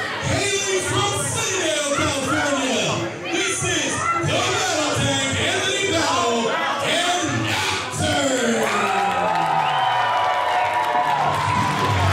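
A wrestling crowd at a tag team championship match cheers and shouts loudly throughout, rising and swelling in waves of voices with some clapping.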